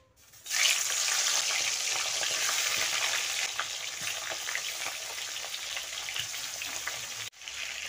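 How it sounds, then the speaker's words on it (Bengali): Fish hits hot oil in a wok and erupts into a loud, dense hiss that settles into a steady close-up sizzle, fading slightly before a brief dropout near the end. "আমি মাছটা ভেজে নেব।"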